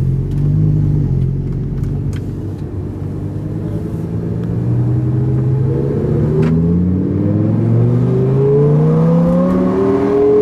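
A Lamborghini fitted with an Armytrix exhaust revs loud and close, its deep engine note climbing steadily in pitch as it accelerates, with no talk over it.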